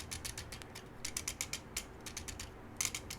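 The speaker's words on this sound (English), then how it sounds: "This guy's shoulders are ratcheted." The ratcheting shoulder joint of a Badcube Backland action figure clicks close up in quick runs of small plastic ratchet ticks, several separate bursts over a few seconds, quiet and with no talk.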